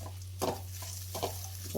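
Food mixed with salt in a pan, with about three quiet scraping stir strokes over a steady low background hum.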